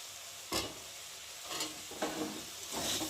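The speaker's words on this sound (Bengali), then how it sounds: "দিয়ে একটু ভালো করে নেড়ে দেবো, যাতে তলায় না লেগে যায়" Maggi noodles with soy sauce and Kissan sauce stirred in a pan: four soft scraping strokes spaced about half a second to a second apart, each brief, over a quiet steady hiss.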